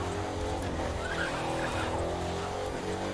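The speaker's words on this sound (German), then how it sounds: "leicht in den Drift gekommen" A car's tires squeal and skid through a drift in the racing game The Crew 2, a sustained screech over a loud engine drone lasting several seconds.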